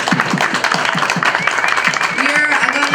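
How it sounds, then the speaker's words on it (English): An audience at a live underground show applauding, a dense burst of clapping that holds steady and loud, with a voice heard over the top. "Big round of applause."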